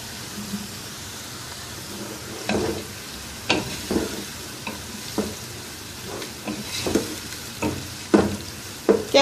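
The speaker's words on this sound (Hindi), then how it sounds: "कैप्सिकम को भी हल्का सा सौते करें" Carrot and capsicum saute in a hot pan for masala fried rice. A steady sizzle runs throughout, with sharp scraping stirs of the spatula breaking in every second or so.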